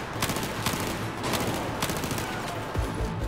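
Rapid gunfire in the Battlefield 4 campaign, dense bursts of shots crackling one after another, loud and close, with sharp individual reports punctuating the continuous fusillade.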